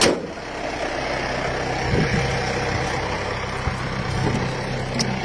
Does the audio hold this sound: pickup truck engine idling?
yes